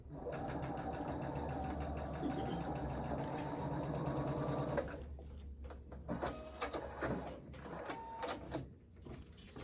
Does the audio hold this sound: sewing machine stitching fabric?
yes